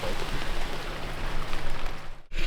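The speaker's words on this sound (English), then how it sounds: "That was ridiculously heavy rain." Heavy rain drums on a narrowboat in a steady, dense hiss that briefly cuts out near the end.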